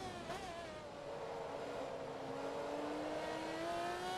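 Race car engine in Forza Motorsport 2 revving continuously, a loud steady whine whose pitch climbs smoothly as the car accelerates, heard alone without talk.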